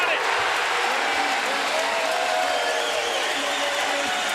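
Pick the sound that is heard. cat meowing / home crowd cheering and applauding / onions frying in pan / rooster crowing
home crowd cheering and applauding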